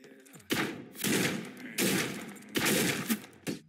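Revolver shots from the video game Absolve Me Daddy 2: four or five loud single blasts fired one at a time with short pauses between them, each followed by a brief decaying tail.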